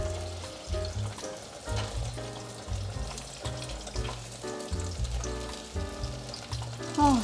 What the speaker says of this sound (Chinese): 再继续让它炸成焦黄色